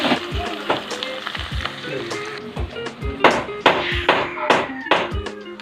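Meat frying in a pan for Filipino adobo, a steady sizzle with repeated sharp taps and clatters of a utensil stirring against the pan, close and fairly loud.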